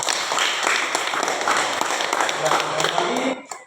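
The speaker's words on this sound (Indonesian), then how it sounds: "Sekali lagi tepuk tangan untuk kelompok satu." Classroom applause for group one, a dense patter of many hands clapping together at close range, lasting several seconds before fading out at the end.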